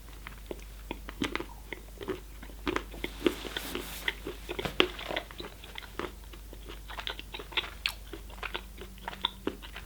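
Dark chocolate ganache bitten and chewed close to the microphone, giving soft crunchy bites followed by irregular wet chewing clicks and smacks over a quiet background, with no talking.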